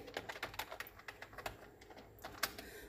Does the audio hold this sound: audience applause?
no